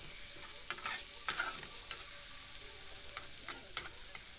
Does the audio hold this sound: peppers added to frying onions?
yes